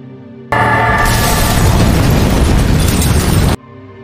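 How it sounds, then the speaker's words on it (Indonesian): A sudden loud car bomb explosion erupts, roaring and rumbling for about three seconds before cutting off abruptly, with quieter background sound before and after. "ternyata yang meledak adalah mobil anak buah Jack."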